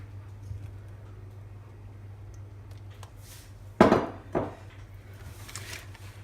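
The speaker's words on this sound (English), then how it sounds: "I'm just going to bounce out my cake mix to make sure that it's even" A cake pan of pumpkin pound cake batter knocked against a counter to level it, two sharp thuds close together, the first louder, over a low steady kitchen hum.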